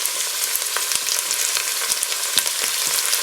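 Meatballs fry in a Ninja Foodi pot at medium to medium-high heat, with a constant close sizzle broken by scattered sharp pops and crackles, heard alone without voices.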